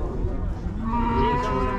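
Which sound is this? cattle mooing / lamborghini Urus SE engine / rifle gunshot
cattle mooing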